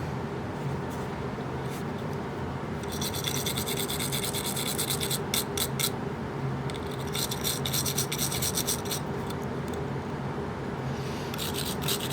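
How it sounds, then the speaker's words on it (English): A small tool scrapes grime off the outside of a bearing from a Dyson DC29 vacuum powerhead, producing repeated close, quiet rasping strokes in short bursts with pauses between them. "I'll just give the outside of the bearing a little bit of a scrape"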